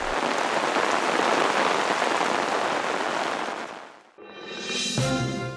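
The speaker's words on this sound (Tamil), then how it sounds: "கனமழை பெய்து வருகிறது." Heavy rain pours down in a dense, loud, continuous hiss for several seconds, then fades briefly before a different, tonal sound rises at the end.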